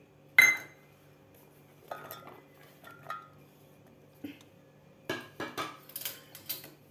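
Fresh coconut pieces dropped into a mixer jar, giving sparse, light clinks and knocks against the container, separated by quiet gaps, with a quicker cluster of taps toward the end.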